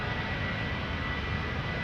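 A Boeing 737 jet departs Schiphol's Polderbaan runway, bound for Manchester, producing a steady, moderately loud engine rumble and hiss for a short stretch with no voices.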